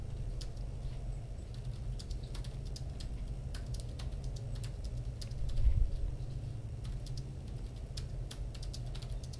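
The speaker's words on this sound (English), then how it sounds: "I'm typing that very question into the chat." Fingers type on a computer keyboard in quick irregular clicks and taps, close and fairly quiet, over a low steady room hum with a brief louder bump midway.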